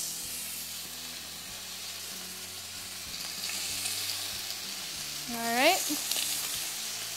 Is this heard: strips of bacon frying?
yes